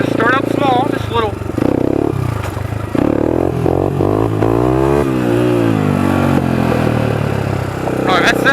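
A motorcycle engine revs hard and rises in pitch during wheelies, loud and close, with wind rush and a rider talking over it.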